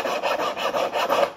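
An old steel file shaping material, likely wax, rasps in about six steady back-and-forth strokes, close and fairly loud, with no talking.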